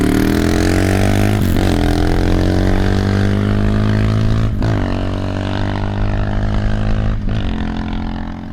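A Herald Brute 500 motorcycle is ridden over a rough surface, its loud, gruff engine rising steadily in pitch and dipping briefly at three gear shifts amid rumbling road and wind noise.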